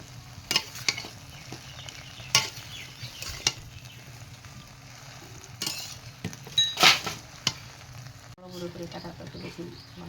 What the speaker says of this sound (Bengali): কিছুক্ষণ কুলটা নড়াচড়া করে ভেজে নিতে হবে।